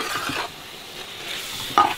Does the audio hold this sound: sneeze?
no